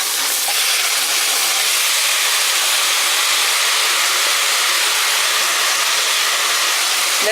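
Field gram (pidakam parupu) sautéing in a pan makes a loud, steady hiss with no breaks, close and unbroken throughout, with no voices.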